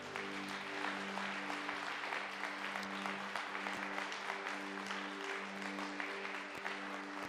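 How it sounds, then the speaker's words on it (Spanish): A church congregation applauds in a steady, distant wash of clapping beneath a sustained musical drone, fairly faint throughout. "Den un aplauso al Rey."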